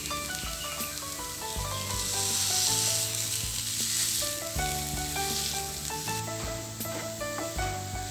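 Mashed potato is stirred into mixed vegetables in a hot pan for paratha stuffing, a steady close sizzle with soft scraping strokes, while background music plays throughout.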